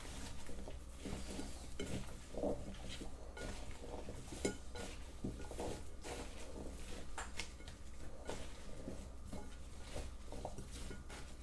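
Chicken and root vegetables tossed together in a bowl, with soft repeated clinks, taps and scraping of a utensil against the dish, faint and close, without talking.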